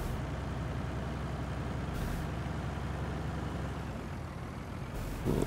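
Heavy truck engine rumbles steadily past in Farming Simulator 19 traffic, with a brief hiss like an air brake near the start and a louder burst at the end; no talking.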